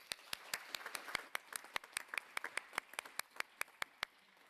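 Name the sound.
audience applause at a conference panel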